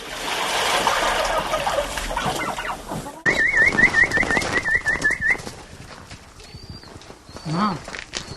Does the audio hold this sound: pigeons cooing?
yes